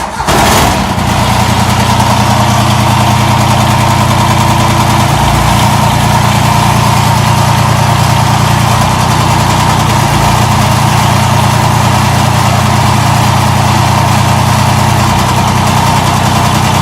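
A John Deere tractor engine idles steadily and loudly close by after a brief start-up burst, a constant low rumble with a slight shift in tone partway through.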